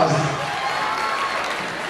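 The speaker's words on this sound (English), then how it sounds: "Let's get a round of applause." A crowd claps steadily at a high school Black History program, a broad wash of applause that stays fairly even, with a voice briefly audible at the start.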